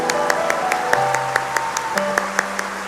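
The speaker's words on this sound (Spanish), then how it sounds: "Dale un aplauso a Jesús" Steady rhythmic clapping from a church congregation, keeping time with music playing underneath.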